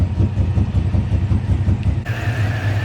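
A Chevrolet Silverado's 6.0L LS V8 with a new block idles with a deep, steady, slightly lumpy rumble, heard up close and loud throughout, without speech.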